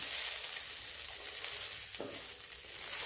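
Basmati rice frying in ghee in a pan, a steady close crackling sizzle that runs throughout, with a brief scrape of stirring partway through.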